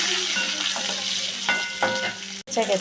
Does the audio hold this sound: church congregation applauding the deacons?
no